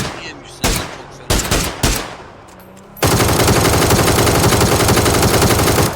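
Automatic gunfire in PUBG on the classic Erengel map: a few separate loud shots, then from about three seconds a dense, continuous full-auto spray that runs to the end.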